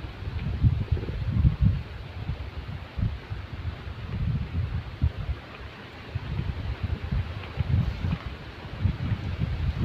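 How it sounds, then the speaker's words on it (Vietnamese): Strong wind blows outdoors in gusty, rumbling bursts buffeting the microphone, a continuous low roar rising and falling for the whole stretch with no talk. "đang vào thì gió nổi lên ầm ầm tại đây này"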